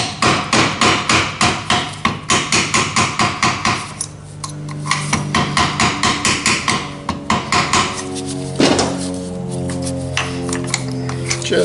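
Rapid metal hammer blows driving a roll pin out of a transmission part, loud and close, a steady rhythm of sharp ringing strikes, a short pause, then more strikes with ringing metallic resonance afterward.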